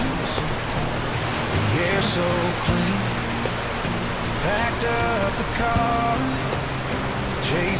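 Rushing water in Johnston Canyon, Banff, flows below catwalks built into the canyon walls, making a steady, loud broadband roar throughout while a voice speaks briefly over it.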